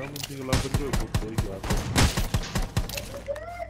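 Bursts of gunfire ring out in the battle royale game Rules of Survival, a rapid string of close, loud shots over about three seconds, while someone talks over the action.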